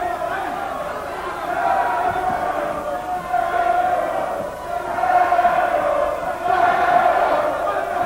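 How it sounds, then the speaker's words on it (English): A boxing crowd at the 1989 title fight between Derek Angol and Apollo Sweet roars steadily, swelling in waves as fans call the boxer's name, a dense, loud wall of voices throughout. "this crowd now really rising to Angol, calling his name, calling him home"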